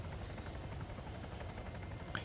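Helicopter in a multiplayer video game, a steady low rotor drone filling the whole stretch at moderate level with no talk over it.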